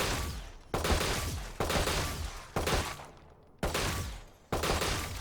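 Valorant gunfire as single tapped shots at armored bots: six loud, evenly spaced cracks roughly every second, each trailing off in a short echoing tail, no voices.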